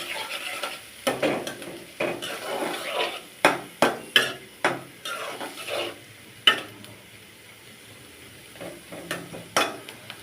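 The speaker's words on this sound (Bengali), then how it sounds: "পেঁয়াজ দিয়ে শুধু ভুনা করব।" Onions and green chillies stir-fried in a pan with a metal spatula, giving repeated sharp scraping knocks in an uneven rhythm over a soft, steady sizzle, close and fairly loud with no voices.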